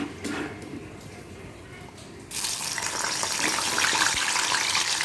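Raw plantain slices dropped into hot oil for a Tamil-style fry, a steady bright hiss that swells louder partway through and keeps bubbling close by, with no talking.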